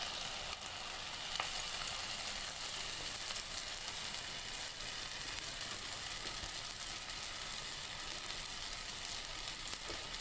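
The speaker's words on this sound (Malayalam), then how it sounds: "ഇതിനി ഈ ചൂടായ എണ്ണയിലേക്ക് കൊണ്ട് വെച്ച് കൊടുക്കണം." Achappam batter coating a traditional mould fries in hot oil. A dense, continuous sizzle holds steady and close throughout, with occasional sharper crackles and no talk.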